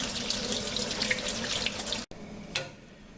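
Running tap water splashes steadily over brined watermelon rind in a sink, then cuts off abruptly, followed by a brief clatter in the quieter room.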